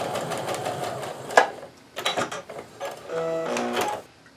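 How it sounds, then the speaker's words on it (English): A sewing machine stitches a quilt seam on a patriotic Stars & Stripes quilt, running in steady mechanical bursts with short pauses between runs, close and moderately loud, with no talking. "I'm going to go ahead and zoom in so you can see how I sew here"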